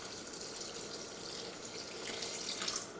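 Water pouring for bagel dough, a soft continuous trickle and splash at close range, quiet and steady, with no voices.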